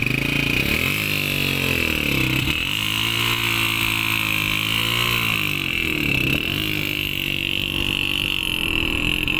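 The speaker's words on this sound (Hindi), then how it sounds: "तो चलो बाइक स्टार्ट करें।" A motorcycle engine runs in the mountains, its loud, close mid-pitched drone wavering as the throttle rises and falls in a few revs.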